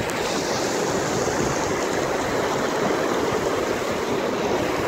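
Cold, snow-fed mountain stream near Mana village and Vasudhara in the Badrinath area, rushing fast in a loud, steady, unbroken roar close by.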